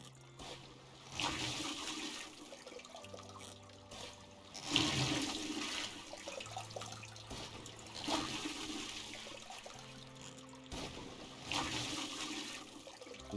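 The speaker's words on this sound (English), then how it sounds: "Gonna fill them all with water." Water pouring and splashing as eight buckets are filled one after another, the flow rising and falling in several surges with a steady trickling bed between, fairly close, with no talk.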